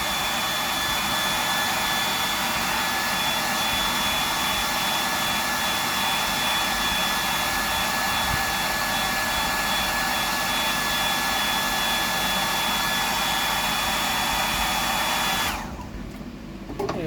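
A blow dryer blasts continuously to dry paint on a handmade fishing lure, a loud, steady whooshing hum up close that cuts off abruptly near the end.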